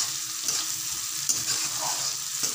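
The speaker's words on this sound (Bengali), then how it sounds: "এই যে পেঁয়াজ কুচি আর লঙ্কা কুচি দিয়ে দিলাম মাছ ভাজার তেলে" Chopped onion and chilli hit fish-frying oil, giving a loud, close, continuous sizzle with stirring scrapes and no talk.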